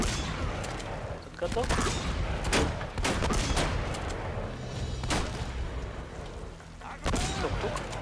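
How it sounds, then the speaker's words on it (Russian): Rapid bursts of gunfire in the video game Uncharted 4: A Thief's End, with sharp cracks and thuds scattered across the stretch while someone speaks over the combat. "От его выстрелов мы прячемся, сами стреляем, побеждаем"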